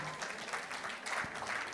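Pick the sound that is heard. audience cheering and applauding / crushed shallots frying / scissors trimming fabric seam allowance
audience cheering and applauding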